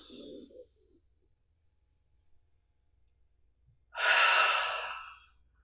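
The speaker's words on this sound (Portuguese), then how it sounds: "Inspira e sobe desenrolando." Deep breathing during a stretching exercise: a short breath at the start, a long quiet pause, then a loud, sustained breath close to the microphone.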